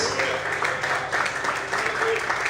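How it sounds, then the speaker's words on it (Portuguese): Church congregation clapping during a morning service, a steady dense patter of many hands with a sustained musical tone underneath and some voices mixed in. "Você pode aplaudir e exaltar o nome de Deus, aleluia."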